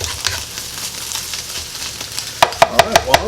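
Spam and onions frying in a pan for breakfast fajitas give a steady close sizzle, then a run of sharp, evenly spaced metallic clinks from stirring near the end.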